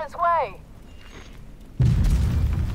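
Mortar barrage in a combat video game: a sudden heavy rumbling explosion rolls in after a brief voice and quiet stretch, loud, low and sustained to the end.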